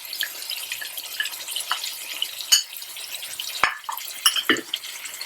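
A pumpkin curry, cooked down until the oil separates, sizzles softly in a pan while a spoon stirs it, with a few sharp clinks and scrapes against the metal, close by and without voices.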